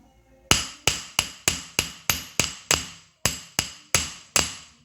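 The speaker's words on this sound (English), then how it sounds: "just come up here on the top and just smack it a little bit with a hammer" Sharp metal hammer blows drive a front wheel bearing race into place on a 2008 Polaris Sportsman 500 HO ATV, twelve evenly spaced strikes in a steady rhythm, loud and close with ringing decay and no talking.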